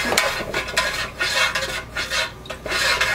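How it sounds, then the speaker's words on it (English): Icing being stirred in a bowl for piping onto candles, a steady scraping, clinking rhythm of utensil against the dish, close and fairly loud with brief pauses between strokes. "I'm just going to give this a stir for a minute."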